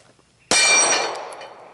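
A bullet strikes the outer edge of a steel target on a shooting range, giving one sudden loud metallic clang that rings and slowly fades.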